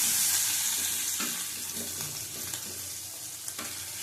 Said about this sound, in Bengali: এই তেলের মধ্যেই ভেজে নিলাম আলু।